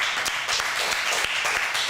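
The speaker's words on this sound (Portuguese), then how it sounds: "palmas pra" Theater audience claps in a brisk, continuous burst, dense and fairly close, with no voices over it.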